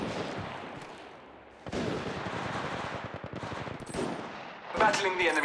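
Rapid automatic gunfire in the battle royale game Apex Legends rattles in dense bursts, dropping briefly before a second, louder stretch of shots with a bright metallic burst near the end.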